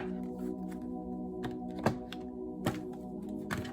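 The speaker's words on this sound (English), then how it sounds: "Let me give you two more shuffles for Capricorn." Tarot cards being shuffled softly and steadily, with a few louder flicks and taps breaking through a constant low hum.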